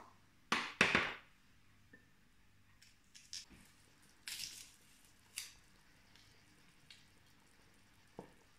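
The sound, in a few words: mixing a garlic preparation by hand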